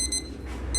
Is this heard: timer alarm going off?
yes